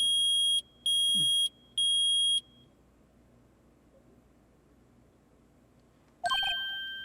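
Three loud electronic beeps in quick succession, each about half a second, from a metal detector in the Ace Attorney video game, followed by quiet and then a brief electronic chime near the end.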